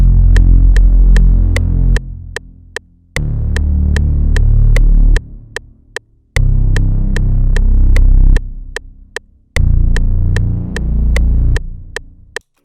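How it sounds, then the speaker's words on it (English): Serum sub bass synthesizer pattern for a hyperpop beat, a loud deep throbbing bass playing in repeated phrases, punctuated by sharp regular clicks and gaps between bars, with no voices. "next I have the Serum sub bass, which is gonna sound like this"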